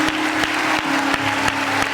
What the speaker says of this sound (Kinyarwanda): Wakomera amashyi menshi Imana